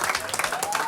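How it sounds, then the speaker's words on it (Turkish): Quiz night players give themselves a short burst of applause, a quick scatter of claps from a small crowd lasting under a second. "Kendinizi bir alkışlayın bence"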